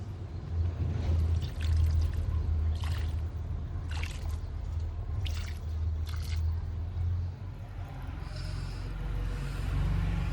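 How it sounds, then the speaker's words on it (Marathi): Water pours steadily and splashes onto soil and leaves, with a few brief drips and clatters over a low background rumble. "हे माझी झाडं आहेत, आता यांना पाणी टाकायचं आहे."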